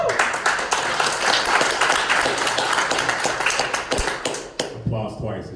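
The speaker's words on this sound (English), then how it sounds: "Applause twice is just great." A crowd at a rent stabilization community gathering in Montgomery County applauds, dense clapping that holds steady for several seconds then thins out, with voices mixed in.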